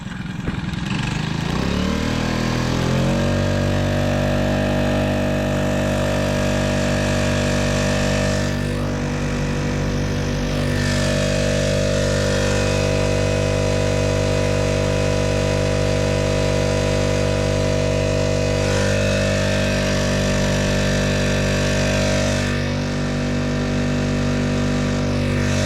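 Small outboard motor mounted on a kayak runs steadily for the whole stretch, rising from a low start into a constant loud droning hum with a few brief dips, close by and without talk.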